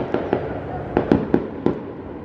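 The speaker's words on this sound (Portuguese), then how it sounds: "Fogos." Several fireworks bursting at a New Year's Eve family celebration in Videira, Santa Catarina, six sharp booms spread irregularly over two seconds, fairly distant, over a faint background of voices.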